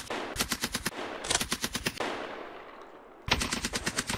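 Suppressing machine gun fire in a video game: rapid bursts of automatic shots in three clusters, loud and close, with short pauses between bursts and no talk.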